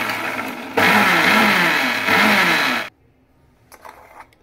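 Blender whirring through a batch of homemade mayonnaise, a loud, close motor roar that starts abruptly, dips briefly, then cuts off, leaving a quiet room with faint clatter afterward.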